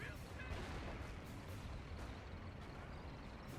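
Sustained machine-gun fire from an MG42 in a video game, a dense rapid crackle running through the whole stretch at fairly low level.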